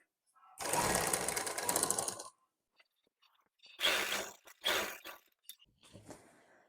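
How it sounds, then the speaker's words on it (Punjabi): A sewing machine stitching a folded slit on a lined kurti, one long whirring run followed by two short bursts and a fainter final stitch, close with quiet gaps between. "ਜਿੰਨਾ ਆਪਾਂ ਫੋਲਡ ਕਰਨਾ ਸੀ ਚਾਕ ਉਹਦੇ ਉੱਪਰ ਹੀ ਸਲਾਈ ਲਗਾ ਲੈਣੀ ਆਪਾਂ ਨੇ"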